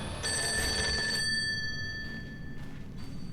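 Old telephone bell ringing in a haunted house in the horror video game Fatal Frame V, a sharp metallic trill that rings out loudly, pauses, then starts again, with no voices.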